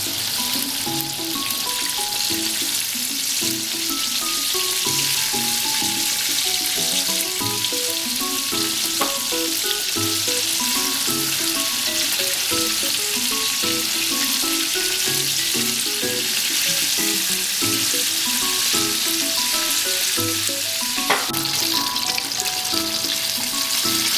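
Chicken drumsticks for homemade KFC-style chicken fry in hot oil, a dense, steady sizzle and crackle that holds loud and close throughout with no talking.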